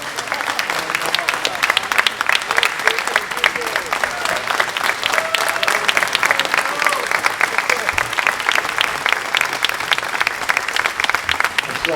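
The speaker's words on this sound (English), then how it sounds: "he deserves a tremendous round of applause," A standing ovation at an Israel Bonds evening at the Addison: dense, sustained applause from a large crowd, steady and loud for the full stretch, with faint voices mixed into the clapping.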